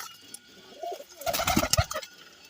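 Soft cooing of pigeons, a few low throaty calls rising in the middle with faint chirps, fairly quiet and close.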